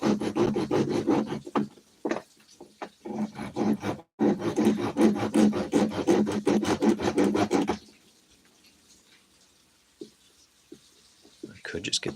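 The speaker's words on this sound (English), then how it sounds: "Here I am with a little handsaw." A little handsaw cuts through a small piece of wood with close, quick, scratchy back-and-forth strokes for several seconds, pausing briefly once. It ends in near quiet with a few faint knocks.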